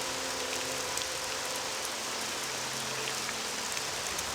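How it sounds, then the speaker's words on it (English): Steady rain in the game The Elder Scrolls III: Morrowind, heard from a tower top as an even broadband hiss that holds at one level for the whole stretch, with no voices over it. "Oh good, it's still raining!"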